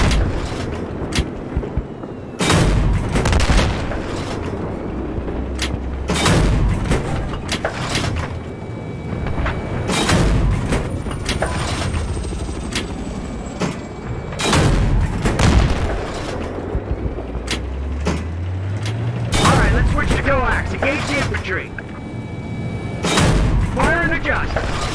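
Tank battle in Battlefield 3 with an M1A2 Abrams: loud repeated cannon booms and gunfire bursts fire at irregular intervals, with engine rumble and a low rising whine beneath, under radio chatter between crew members.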